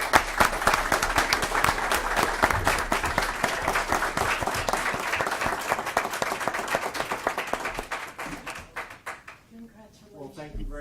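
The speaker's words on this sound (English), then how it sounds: "Let's give Doug a big hand of applause." Council meeting audience applauds Doug, a burst of distinct individual claps that thins out and fades toward the end, with a voice starting to speak as it dies down.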